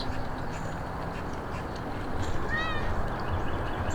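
A cat meows once amid steady low background noise, a short rising-and-falling cry partway through.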